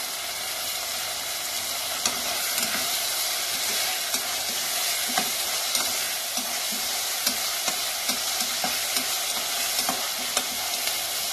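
Tomatoes with green and red chilies sauté in a pan: a constant bright sizzle with regular light clicks and scrapes of a stirring spoon, close and even, no voices.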